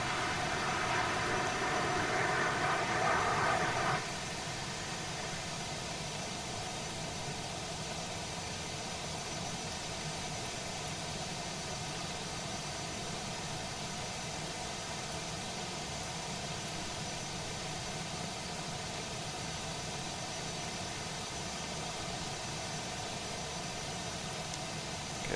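An Airbus A319 engine runs steadily in the X-Plane 12 flight simulator, a constant loud whine and rumble with a short louder patch at the start, then an even drone with no talk.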